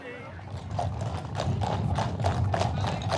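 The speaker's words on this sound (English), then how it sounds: "And there they are, majestic Frisians drawing the Queen's golden coach with pride and elegance" Friesian horses draw a golden royal coach, their hooves clip-clopping in a steady, rhythmic procession beat over a low crowd murmur and background voices.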